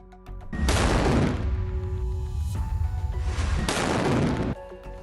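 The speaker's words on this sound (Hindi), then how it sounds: "जैसे ही ये रॉकेट आईडीएफ के टैंक पर लगता है, वैसे ही बहुत बड़ा धमाका होता है" A rocket strikes an Israeli IDF tank in Khan Yunis, Gaza, setting off a loud, sustained blast roar with a second surge of rumbling noise toward the end, heavy low-end energy throughout.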